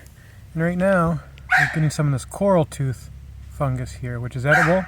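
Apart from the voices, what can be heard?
dog barking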